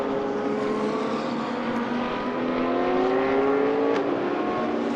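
GT2 race cars lapping the Paul Ricard circuit, a continuous loud engine drone with rising pitch as they accelerate, multiple cars blending into one sustained roar.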